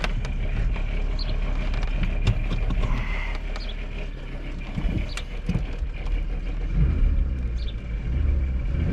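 A 2002 Volkswagen Eurovan with a VR6 engine idles with a steady, loud rumble and a rattle running through it, plus scattered knocks and clicks. No one speaks.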